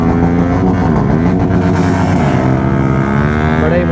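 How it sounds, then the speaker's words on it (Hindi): Vehicles rumble and rev loudly at close range during a Sunday morning group ride, a dense engine roar with shifting pitch as the motors climb, mixed with some wind buffeting. "ये रही आपकी गाड़ी और गाड़ी का साउंड"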